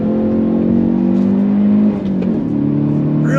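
A 2022 Hyundai Veloster N hot hatch accelerating hard in third gear after a downshift, its engine a steady loud drone climbing smoothly through the revs, with a brief dip midway before pulling on strongly.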